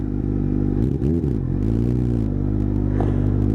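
An old Kawasaki motorcycle out cruising on a ride, its engine droning steadily and loud close to the rider, with a brief rise and fall in revs and some wind rush, no talking.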